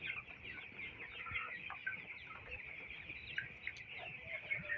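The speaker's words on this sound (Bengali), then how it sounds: "এই মুরগির বাচ্চাগুলোর বয়স হচ্ছে আজকে 18 দিন।" Eighteen-day-old broiler chicks in a poultry shed cluck and chirp continuously as a busy flock, a faint, even chatter with no talk.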